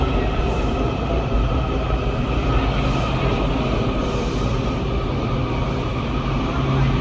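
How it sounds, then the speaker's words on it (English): Washington metro subway train arriving at a platform in Arlington, Virginia, a loud continuous rolling rumble with faint wheel squeals rising above it, steady and close throughout with no talk. "Here comes the metro."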